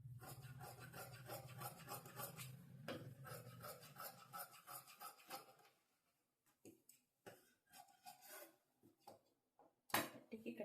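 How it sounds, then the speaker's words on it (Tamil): Scissors cutting blouse fabric for the band on a tailoring table, a continuous close rasping snip for several seconds, then sparse soft clicks and handling noises, faint and without speech. "பட்டிக்கு கட் பண்ணியாச்சு."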